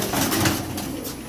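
Kasuri pigeons coo up close in a soft, continuous rolling murmur, heard alone with no voices over it.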